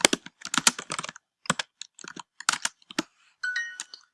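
Quick, uneven bursts of close keystrokes on a computer keyboard while answering a language-learning translation exercise, soft clicks in clusters with brief pauses, ending on a short electronic chime.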